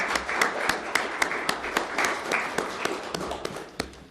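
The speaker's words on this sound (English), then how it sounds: "If we could do a round of applause for all of our new and returning council members" A town council chamber audience applauds new and returning council members after their swearing-in, with brisk, close clapping throughout that fades slightly at the end.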